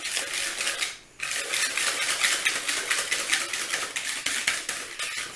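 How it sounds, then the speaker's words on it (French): Vanilla cake batter being mixed by hand in a bowl, a rapid, continuous clatter of whisk or utensil against the sides, close and busy, with a brief pause near the start before the stirring resumes. "On remélange."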